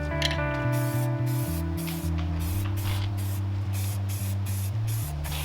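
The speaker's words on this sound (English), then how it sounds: "got this automotive primer here. Gonna give it a quick prime" Automotive primer from a spray can hisses onto a taillight housing in a steady, close spray with a few brief breaks, under a low steady hum and no voices.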